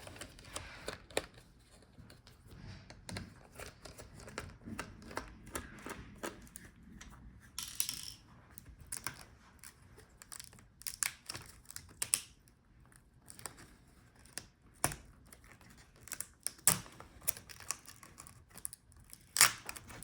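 Small screws being backed out of the I/O board inside a Dell Latitude 7530 laptop during a teardown: faint scattered clicks and scrapes of a screwdriver working close by, with no talking.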